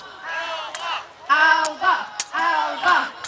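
A crowd at a living history event on the Clyde shouts the old name of Scotland in unison, three loud rhythmic chanted bursts close by with brief pauses between.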